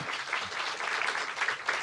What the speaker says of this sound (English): I want to give a huge round of applause to Politics and Prose for setting this all up